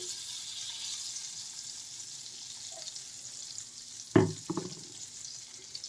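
Butter and oil sizzle in a frying pan with a steady, close hiss, broken near the end by a sharp metallic clank and a few brief knocks of cookware.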